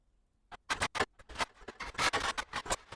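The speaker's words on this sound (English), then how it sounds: "here's the granulated engine sound." A granulated engine sound synthesized in SuperCollider comes through as a rapid, irregular stream of short grainy bursts and clicks. It starts faint, then grows denser and louder, with no voices.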